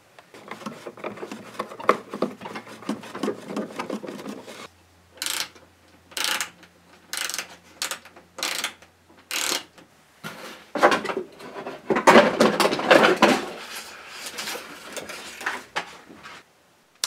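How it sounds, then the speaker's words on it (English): Screws are backed out of 3D printed frames fixed to wood, heard as close whirring driver bursts separated by pauses, some short and some sustained, with faint clatter between them. "so I can just unscrew this from the wood all the way around."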